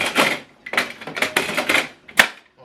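A series of plastic rattles and clunks close up on an HP OfficeJet Pro 9012e printer, ending in one sharp click as its cover snaps shut.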